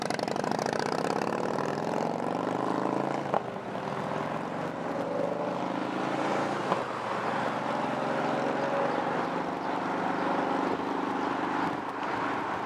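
A loud, steady chopper motorcycle engine drone with a throbbing exhaust note holds throughout as it passes, rising briefly with a couple of sharp pops, no voices.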